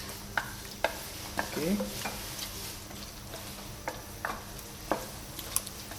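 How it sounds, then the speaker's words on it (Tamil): Malaysian-style mutton masala cooks in a pot with a soft continuous sizzle, broken by occasional spoon clinks and scrapes against the pot; one brief spoken word is heard. "நல்லா கொதிக்க விடுறேன்."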